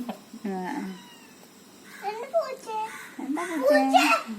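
A cat meows a few times close by, its short rising cries mixed with a voice and light background chatter.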